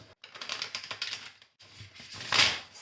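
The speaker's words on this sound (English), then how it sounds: "let's give this deck a little shuffle" A tarot deck is shuffled close up in quick riffling bursts, with two runs of rapid papery flicks split by a short pause and a louder final riffle.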